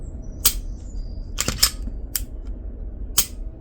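Trigger reset clicks from a CZ P10C pistol: about five sharp, dry clicks spaced irregularly over a few seconds, close and distinct against a quiet background.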